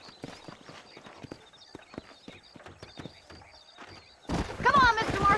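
Horses clip-clop at a steady walking pace in the Western video game Red Dead Redemption, fairly close, with a sharper burst of hoof and movement noise near the end.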